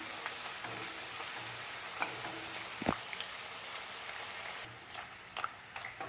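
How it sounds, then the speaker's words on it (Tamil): Tapioca chips frying in groundnut oil, with a steady close sizzle and scattered pops and crackles across the whole stretch, easing slightly toward the end. "நான் அந்த ஆயில் யூஸ் பண்ணுறது இல்லைங்கிறதுனால கடலெண்ணெய் யூஸ் பண்ணி பொரிக்கிறேன்."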